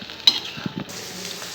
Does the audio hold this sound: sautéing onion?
yes